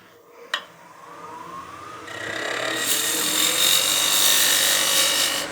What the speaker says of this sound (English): Let's go ahead and part this, or cut this tenon here.